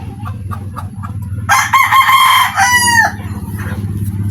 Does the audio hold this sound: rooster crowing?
yes